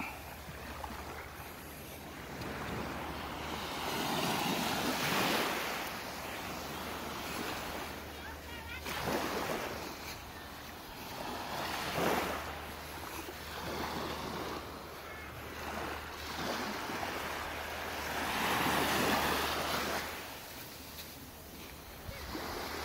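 Sea surf rolls in at Seven Mile Beach in slow recurring surges, each wave building and washing out every few seconds amid steady wind noise buffeting the microphone.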